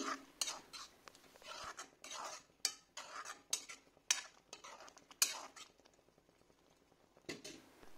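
Water spinach greens being stirred with spices in a pan, a quiet, irregular run of scraping and clinking from a utensil against the metal, close and with no talk.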